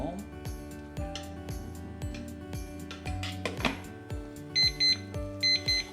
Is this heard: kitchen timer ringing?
yes